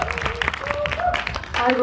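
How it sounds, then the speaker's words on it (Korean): An audience at a cinema talk event gives dense, rapid applause that fills the space, with voices talking over the clapping. "박수 한번 부탁드리겠습니다"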